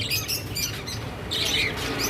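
Caged sparrows chirp in a pet shop, a busy run of quick, bright tweets from several birds close by with a brief louder burst near the end and no talk.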